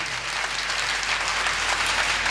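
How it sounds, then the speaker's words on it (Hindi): A large audience applauds loudly and steadily for a foundation at a live religious Divya Jyot Yatra gathering in Zhariya, a dense wash of clapping that holds at full strength throughout with no break. "एक बार मैं चाहूंगा श्री रानी सती फाउंडेशन के लिए तालियां"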